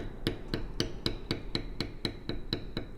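A bevel stamping tool is struck lightly with a mallet into thin leather, giving about ten evenly spaced, sharp taps in a steady rhythm, close and clear with no talking.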